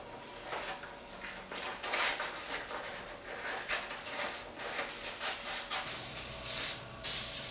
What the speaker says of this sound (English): applying the patterns to the wood with the spray adhesive